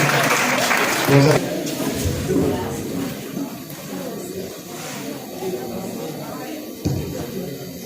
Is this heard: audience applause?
yes